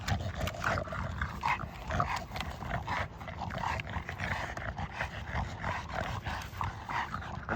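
Several dogs romp together with a puppy, a steady stream of growls, yips and whimpers close by, dense and continuous throughout with no pauses.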